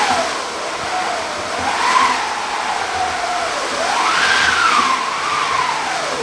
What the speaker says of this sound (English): this wind machine which we've made. It's just an old wooden wheel with a handle on it and some cloth and some timber slots